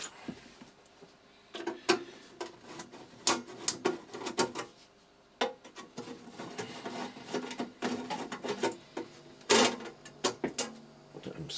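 Screws being undone from the metal case of a Farnell L30DT bench power supply, giving a run of close, sharp clicks, scrapes and metallic handling taps with brief pauses between bursts.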